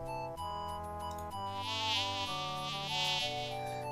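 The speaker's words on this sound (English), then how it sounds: "A loud buzzing draws your attention to a small window." A loud, wavering buzz of a fist-sized insect flying in swells up in a video game, heard over sustained musical tones.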